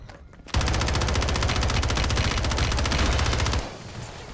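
Rapid automatic gunfire from Call of Duty Warzone 3 on Rebirth Island erupts after a brief quiet moment, a loud, dense, steady stream of shots lasting about three seconds before cutting off into a softer fading tail.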